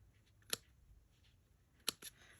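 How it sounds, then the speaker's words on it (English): Two or three quiet, crisp snips of small scissors trimming paper, separated by near silence. "I'm going to get my teeny tiny scissors"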